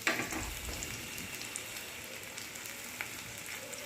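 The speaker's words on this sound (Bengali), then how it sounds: "এই তেলের মধ্যেই ঝিঙে আর পুঁই ডাটাগুলো দিয়ে দিচ্ছি" Ridge gourd and Malabar spinach stalks frying in oil left in a wok after frying fish, giving a steady soft crackle and sizzle throughout with no talking.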